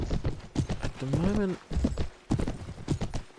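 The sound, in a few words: horses clip-clopping in Mount & Blade Warband video game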